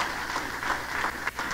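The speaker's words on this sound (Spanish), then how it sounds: "Dele ese aplauso al Señor" A church congregation applauds and cheers for the Lord during a sermon, a dense sustained wash of clapping at steady loudness with a brief dip near the end.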